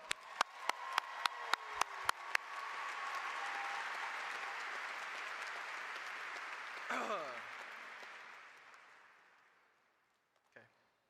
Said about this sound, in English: let's give a round of applause to the class of 2025 graduates